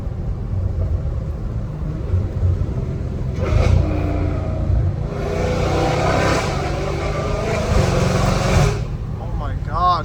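A Dodge Hellcat Redeye engine roars and revs loudly in bursts over a deep sustained rumble, with someone talking over the noise.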